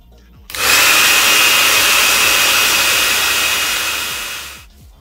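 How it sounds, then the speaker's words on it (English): An electric fan drying conductive ink switches on with a loud, close rushing whoosh that holds steady for about four seconds, then tapers and cuts off. "Now I will dry this one with the fan"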